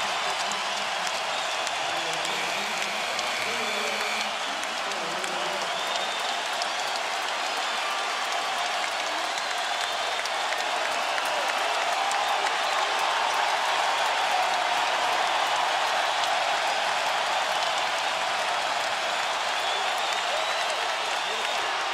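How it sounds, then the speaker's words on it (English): Basketball arena crowd at the NBA Finals roars and applauds steadily as Dwyane Wade and LeBron James of the Miami Heat leave the game, a dense continuous wash of cheering and clapping with no clear break. "Now Dwayne Wade and LeBron James will come out of the game to the roar of the crowd."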